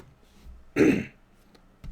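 A single short, rough throat clearing from a person with a cough, close and fairly loud, in an otherwise quiet room, followed by a faint click.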